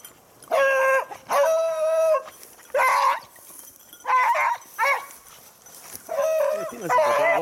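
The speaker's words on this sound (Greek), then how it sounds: "τον έχουν σηκώσει καλύτερα και γαμπίζουν πολύ τα σκυλιά" Beagle hunting dogs baying and barking during a hunt in Greece, a series of loud, drawn-out howling bays in bursts with short pauses, fairly close.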